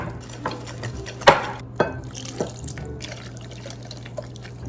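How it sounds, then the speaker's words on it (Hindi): Maalpua batter is stirred in a bowl as lukewarm water is added bit by bit, giving wet slaps and sloshing strokes with a few louder splashy hits near the start, close up and without speech. "थोड़ा थोड़ा करके डालें और इसको मिक्स करते रहें।"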